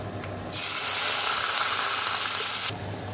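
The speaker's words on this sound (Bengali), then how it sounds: "এই যে জল ঢেলে দিলাম" Water hits a hot pan of oil with crushed, lightly fried garlic and green chillies, bursting into a loud, steady sizzling hiss for about two seconds before settling back.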